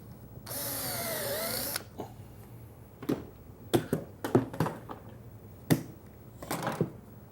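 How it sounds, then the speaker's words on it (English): A drill with a Vix self-centering bit bores a shelf pin hole in a wooden base cabinet side in one steady burst of just over a second, followed by a series of sharp taps and clicks as the bit is repositioned. "Now I'm using a Vicks bit, just a brand name, but this is a self-centering bit."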